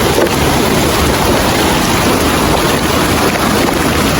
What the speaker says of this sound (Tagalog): Lalong lumakas yung ulan bro ah.